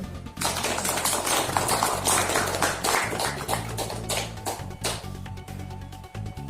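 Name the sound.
audience applause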